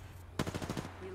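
A rapid burst of automatic gunfire in the Apex Legends video game, about half a dozen quick shots packed into under half a second, sharp and fairly close.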